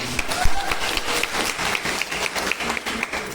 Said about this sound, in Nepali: यसरी ताली बजाइदिनु होला